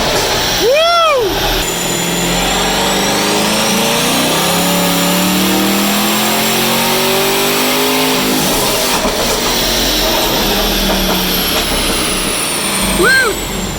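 A twin turbo C8 Corvette runs on a dyno, its engine droning loudly and climbing through a long sustained pull, with a brief whoosh-like sweep at the start and end.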